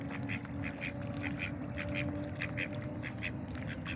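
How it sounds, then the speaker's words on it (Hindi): Ducks quacking repeatedly in a rural Pakistani village yard around feeding time, a steady run of nasal quacks over low background noise, with no talk. "ये देखो जी बत्तख आ गई।"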